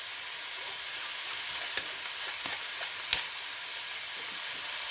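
Minced meat browning in a pan with shredded cabbage and grated carrot, giving a steady, even sizzle and hiss throughout, with a couple of sharp clicks from stirring.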